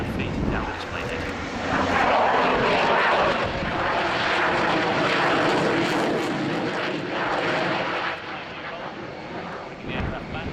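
An F/A-18 jet flies a nose-high, slow display pass at an airshow, its engine roar building loud and steady for several seconds before easing off slightly near the end.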